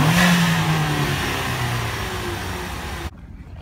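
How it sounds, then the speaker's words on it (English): A Mustang's engine revs loudly and close by in a sustained roar that eases slightly, then cuts off sharply near the end, leaving faint background sound. "Can you rev it up?"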